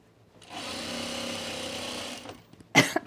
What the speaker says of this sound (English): I'm going to sew this whole center back.